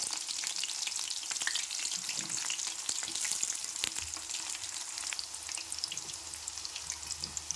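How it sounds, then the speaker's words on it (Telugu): Onions fry in well-heated oil for a ridge gourd chutney, a dense, even, close sizzle with faint stirring scrapes running steadily from start to finish. "ఆయిల్ అయితే బాగా కాగింది కదా, ఇప్పుడైతే ఉల్లిగడ్డలు అయితే వేసుకోవాలి."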